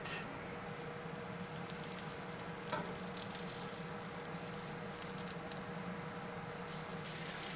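A thick côte de boeuf steak sears on its fatty edge in a hot pan, giving a steady, even sizzle and crackle that holds at one level throughout, with no voices.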